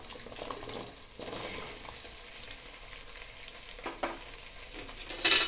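Potatoes for masala rice fry in hot oil with a close, continuous sizzle, marked by a few scraping stirs and a sharper clatter at the end.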